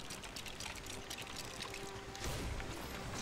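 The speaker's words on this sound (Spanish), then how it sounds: "Vale, hay que llenarlo de agua" Water pours and splashes in The LEGO Ninjago Movie Video Game, a steady close rush of liquid that swells louder near the end, with light game sounds over it.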